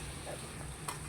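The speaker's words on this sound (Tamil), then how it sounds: "இப்போ நல்லா வதங்கணும் வெங்காயம்" Onions sautéing in a pan for a home-cooked chicken devil dish, a steady close hiss of frying with one brief stir-scrape near the end, no voices.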